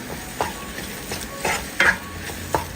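Roasted spice powders being stirred into a salted masala frying in a pan: a soft sizzle underneath with four or five distinct spatula scrapes at uneven intervals, close by.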